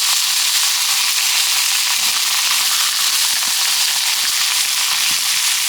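Beef sizzling and crackling over a campfire grill, a loud, steady, dense hiss with scattered pops throughout, no voices over it.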